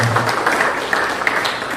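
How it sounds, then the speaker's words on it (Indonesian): A classroom of students gives their classmates a brief, dense burst of clapping, with a voice faintly underneath. "Beri tepuk tangan dulu untuk teman-teman."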